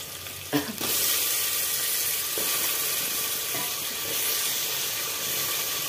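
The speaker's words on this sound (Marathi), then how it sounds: "टोमॅटो परततोय तोपर्यंत आपण हे वांगे आणि बटाटे आपण टाकून घेऊया" Tomatoes, brinjal and potatoes fry in a pan, a steady soft sizzle with a sharp clatter near the start as the vegetables go in, then an even hiss.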